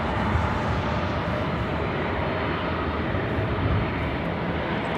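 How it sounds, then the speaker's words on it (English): A Cessna 750 Citation X business jet arriving at LAX from SFO, heard as a continuous, even engine rumble and hiss, fairly loud and unbroken, with no voices over it. "Next arrival is the Cessna 750 Citation X coming from SFO."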